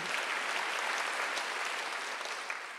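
A congregation at a Sunday church service applauds steadily for about three seconds, a dense wash of clapping with no pauses or voices.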